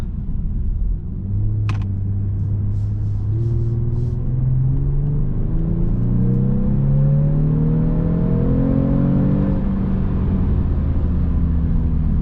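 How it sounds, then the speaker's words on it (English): A 2020 Genesis G70 3.3T AWD in sport mode accelerates hard up a highway on-ramp, its engine note climbing through the gears in a loud, continuous rising drone over road rumble. "Put it in sport real quick to show you the pickup on this highway on-ramp."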